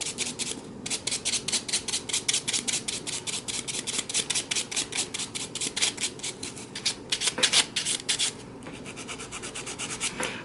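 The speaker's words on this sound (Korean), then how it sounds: "자, 샌딩 작업이 들어가겠습니다." A silk-wrapped artificial nail tip is sanded with an abrasive file in quick, steady back-and-forth rasping strokes. The strokes are close and fairly loud, briefly pausing and then resuming, with no one talking.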